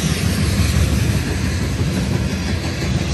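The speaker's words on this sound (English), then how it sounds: "This train is zooming." A train roars past at close range, a loud continuous rumble with a rushing, rattling texture that holds steady throughout.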